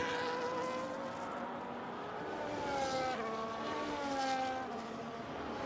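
A race car at the Hungary round of an SFR race runs a steady, buzzing engine drone whose pitch rises and falls as it works through the gears, moderately distant, with no talking.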